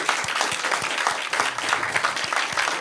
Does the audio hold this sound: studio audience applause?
yes